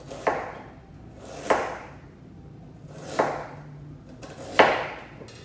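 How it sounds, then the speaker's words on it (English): Knife chopping a cleaned vegetable into fine cuts on a board during a summer harvest cooking demo, four sharp separate strikes spaced unevenly, close and clear with no talk. "we're just going to do some fine cuts"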